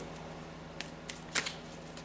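Tarot cards being shuffled by hand, a soft papery riffle with a few sharper snaps and flicks near the end, close and quiet with no talking.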